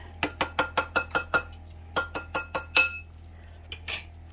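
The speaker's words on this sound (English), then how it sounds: "Let me stir it up real quick, and then I'm going to go ahead and whisk it." A whisk beats chocolate chess pie filling in a bowl, making quick, evenly spaced metallic clinks in two close, crisp runs separated by a short pause, then a couple of stray taps.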